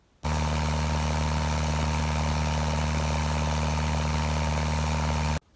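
A model aircraft engine runs steadily at a constant speed after its propeller has been balanced. It is loud and smooth, with a strong low hum and no talking.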